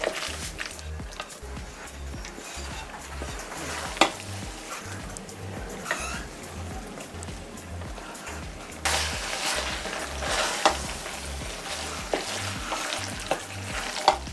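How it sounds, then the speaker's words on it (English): Linguine with prawns, bacon, Parmesan and parsley being stirred through a thick cream sauce in a pan, with a steady rhythmic scraping and soft sizzle that continue throughout and grow slightly louder partway through. "I'm now going to add the pasta and the prawn, mix it up a little bit"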